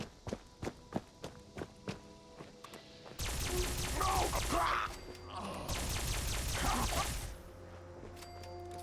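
Alien blaster fired in Fallout 76, two long, loud, harsh bursts of energy fire after a run of quick footsteps, with a few faint clicks trailing after.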